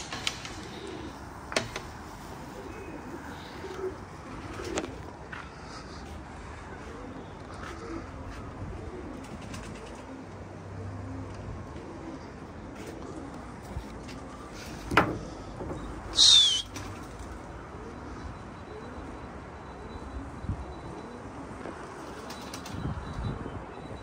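Pigeons on a rooftop give soft, low coos with an occasional brief flutter of wings, faint and scattered through steady outdoor background noise.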